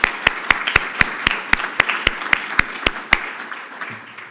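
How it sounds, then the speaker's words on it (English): At an awards ceremony, a small crowd gives sparse clapping with sharp, evenly spaced claps that stand out above a soft background of more applause, tapering off near the end. "Let's give a round of applause for Robert."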